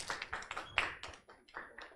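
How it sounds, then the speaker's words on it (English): A few people clapping after a university public-health seminar, sparse, distinct claps in an uneven rhythm, faint and distant. "Give an applause."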